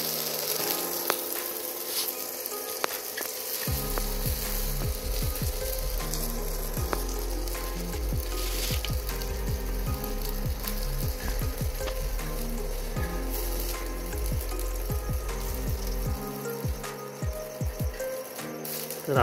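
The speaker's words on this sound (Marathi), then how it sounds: "मग आता फ्राय करायला घेतली." Marinated fish fries in a pan with a loud, steady, close sizzle that continues throughout, along with occasional light pops and clicks from the pan.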